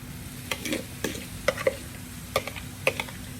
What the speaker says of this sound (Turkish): Sulanmaması adına şu şekilde kavuruyoruz arkadaşlar